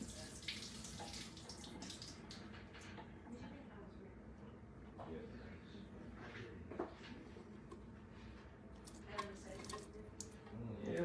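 Liquid from two cans of corn drains into a sink in a kitchen, a faint trickling and dripping with light clatter, fairly quiet and close.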